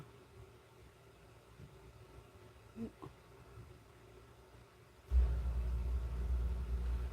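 A heater in a heater room kicks on partway through, a quiet room giving way to a steady, loud low rumble and whoosh that continues to the end.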